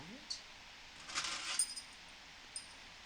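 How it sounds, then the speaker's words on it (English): A bunch of keys jangles briefly as it is set down, a short metallic clinking burst with a couple of lighter clicks before and after, close and quiet in a still room. "These keys actually go to a lock that I have that has Ganesha and Lakshmi on it"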